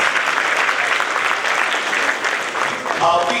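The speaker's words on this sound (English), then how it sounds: "Give a big round of applause." An audience at a jazz festival applauds the band's flute and alto saxophone players, a dense and steady roar of clapping that holds loud and continuous from start to finish.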